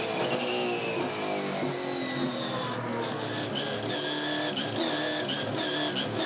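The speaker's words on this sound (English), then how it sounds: "On the throttle, listen, trying to find grip. And there is none." A V8 Supercar races on throttle, its engine howling loudly as the tires squeal and skid while searching for grip, with the pitch wavering and rising throughout.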